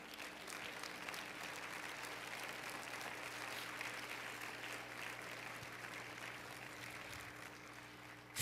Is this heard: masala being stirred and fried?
no